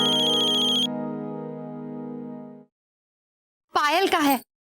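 A mobile phone ringtone plays loud and close as a sustained electronic melody that cuts off, followed after a pause by someone speaking.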